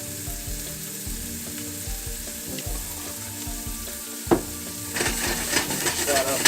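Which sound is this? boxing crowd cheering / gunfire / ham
ham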